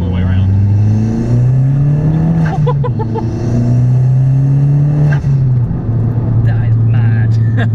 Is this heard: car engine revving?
yes